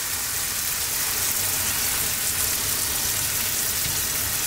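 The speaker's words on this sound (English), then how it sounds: "Now I'm going to go in with that cream." Cream poured into a pan of cooked shrimp for garlic pasta hisses in a continuous, loud, even sizzle with no pauses.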